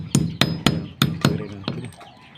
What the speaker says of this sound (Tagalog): Tuwirin ang lumang pako.